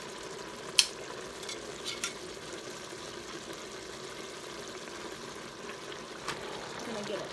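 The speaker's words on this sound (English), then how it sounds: "What I'm going to do is I'm going to add the roast right back into the pan." A pot roast going back into a pan of reduced wine, with a low steady sizzle and bubbling, a sharp clink near the start and a few soft stirring scrapes.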